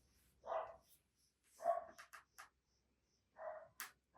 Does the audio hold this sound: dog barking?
yes